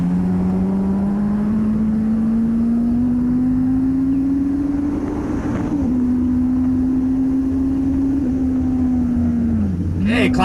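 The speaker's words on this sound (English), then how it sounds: "Classic Superbike's going by right now" Classic Superbike motorcycles racing past on a track, a loud sustained engine drone rising steadily in pitch with gear-change dips, heard from trackside with a constant roar and no clear speech.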